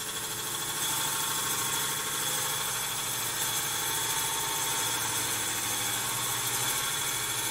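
A wood lathe spins steadily while a goblet is turned, giving a continuous mid-pitched motor hum with a dense, even buzz that stays loud and unbroken throughout, with no talking.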